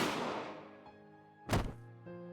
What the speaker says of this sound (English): the dull sound of another gunshot